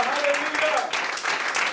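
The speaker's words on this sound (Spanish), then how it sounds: "Alguien dé un aplauso fuerte al Señor" Applause for the Lord at a Spanish-language church service: a steady wash of clapping from a congregation fills the short moment, with voices rising faintly beneath it.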